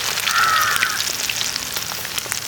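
Chicken pieces seasoned with ginger and garlic deep-fry in hot oil, a loud, continuous, crackling sizzle with scattered pops, heard close and alone.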